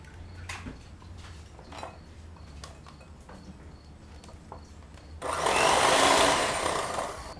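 Butter, sugar and two eggs are beaten together for a plum cake batter, heard first as quiet scattered knocks and taps, then as a loud, steady electric mixer whir during the last couple of seconds.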